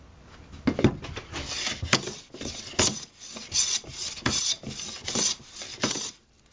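A hand plane is pushed over wood on a leveled, waxed bed, making about eight rasping strokes at a steady rhythm, each a close, loud scrape with brief pauses between.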